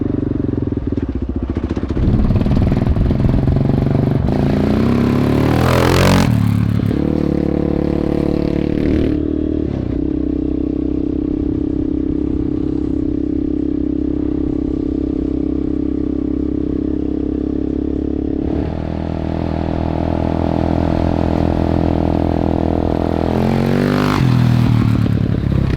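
A Yamaha Warrior 350 four-wheeler, old and formerly abandoned, rides through mud, its engine droning steadily up close with rising revs, clattering and scraping bursts, and a few throttle surges near the start and end.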